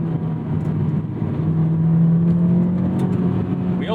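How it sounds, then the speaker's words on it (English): Sports car engine induction note from a Mazda Miata NC2 or Honda S2000 AP2 front-midship engine, a steady droning intake hum that rises slightly in pitch, close and fairly loud, with no speech. "Oh man, I love that induction note."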